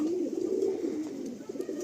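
Madrasi pigeons coo close by in a loft, a continuous low throaty warbling with overlapping calls from several birds.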